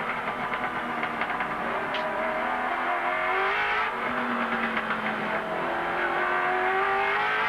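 Onboard sound of Peter Brock's Holden Commodore racing on the Wellington street circuit in 1991, a loud, continuous engine drone with rising and falling revs through gear changes, heard close from the bumper with no talk.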